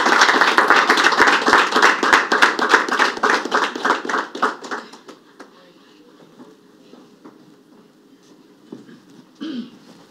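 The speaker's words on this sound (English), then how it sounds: "can we just give a clap of hand to the candidates" Dense crowd clapping at a university student political debate as candidates walk up to the podium, loud and close for a few seconds, then fading out into quiet room sounds with a brief voice near the end.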